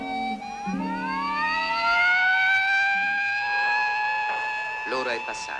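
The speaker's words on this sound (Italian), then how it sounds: "La sirena chiama ancora." A construction site siren in 1960s Rome rises in a long, steady wailing tone that holds loud and then breaks off, with a voice speaking over it.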